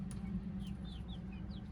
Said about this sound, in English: today is graduation days for these baby chicks.